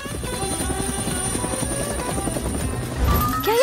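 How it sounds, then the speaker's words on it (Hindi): A helicopter flying overhead, its steady pulsing rotor chop loud and constant throughout, swelling slightly toward the end. "वाह, उस हेलीकॉप्टर को देखो।"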